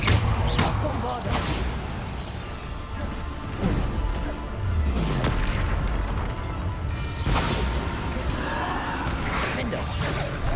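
Repeated Bombarda spell blasts in Hogwarts Legacy go off as several booming crashes and bursts spread across the stretch, loud and punchy over game ambience and rumbling effects.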